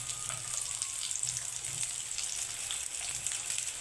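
Onions fry in a pan with a steady, close sizzle and faint bubbling crackle. The sound holds continuously for a few seconds, with no one speaking.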